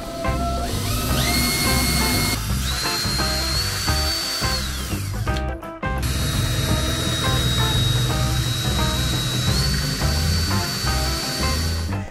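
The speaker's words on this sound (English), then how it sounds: "it's to drill the actual holes into the wall." A power drill bores holes into a room wall, its motor running loud and steady with a rising whine that dips briefly near the middle before resuming, all close up and without talk.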